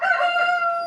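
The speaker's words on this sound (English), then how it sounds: "Oh, shut up, Rooster." A rooster crows in one sustained, strained call with bright harmonic tones, loud and close, heard alone.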